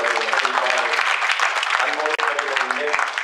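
Audience at a temple event applauds the speakers with a dense, sustained burst of clapping, while a voice keeps talking over it from start to finish.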